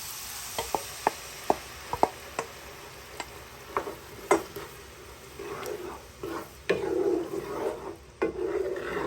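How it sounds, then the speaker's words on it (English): Blended tomatoes and hot chili pepper going into a hot pot for catfish stew: a series of sharp knocks and taps, then a louder wet sizzle and stirring toward the end, close and moderately quiet, with no talking. "Right away, I'm just going to add the tomatoes I blend with hot chili pepper."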